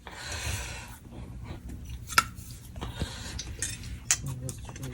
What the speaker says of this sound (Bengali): এটা কাটা চামচ দিয়ে পারফিউমের মতো ঝাঁকাচ্ছে তুই